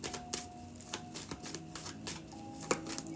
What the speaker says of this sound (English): I just shuffled this also as well.